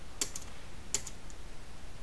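Computer keyboard keys struck while drafting in AutoCAD, two crisp clicks about three quarters of a second apart with faint ticks after each, close and quiet, no talk.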